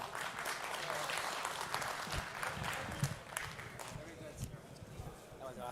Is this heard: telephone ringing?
no